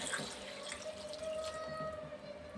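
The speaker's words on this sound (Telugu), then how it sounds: "వాటర్ పోస్తున్నాండి." Water poured from a glass into a cooking pot holding brinjal pieces softened in oil, a steady, fairly faint close-up trickle running continuously for a couple of seconds with no talk.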